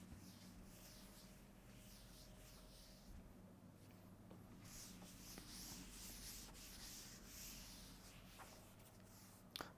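Quiet scrubbing and wiping as writing is rubbed off a board in a chemistry lesson, soft irregular rubbing strokes close by with a small knock near the end.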